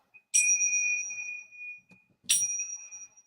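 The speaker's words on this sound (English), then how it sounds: "starting our class with a little bell, I'm not sure if you can hear this one" Two clear, bright strikes of a small bell opening a yoga class, each ringing on and fading slowly, about two seconds apart in a quiet room.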